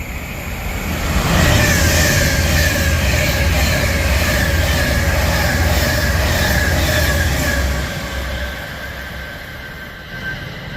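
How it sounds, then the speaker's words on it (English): A Pendolino train passes at Rugby on the West Coast Main Line, a loud sustained rush and rumble with a humming whine that fades after about eight seconds. "that's a Pendolino service off to London Euston, no, from London Euston off to Glasgow Central"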